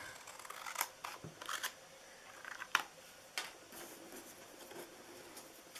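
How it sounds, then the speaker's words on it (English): Repeated crisp snips of scissors cutting paper, irregular and close, with quiet rustling between the cuts. "we're just going to cut that with our scissors here"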